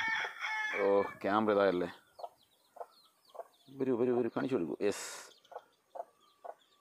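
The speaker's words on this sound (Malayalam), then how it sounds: "കുഞ്ഞുങ്ങൾ, തള്ളക്കോഴി," A mother hen and her chicks cluck and peep in short, scattered bursts nearby, while someone talks over them in between.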